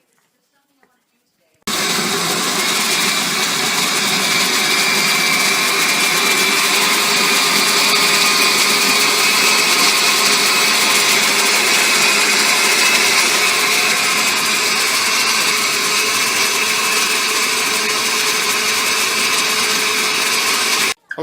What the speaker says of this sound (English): go ahead and blend up some more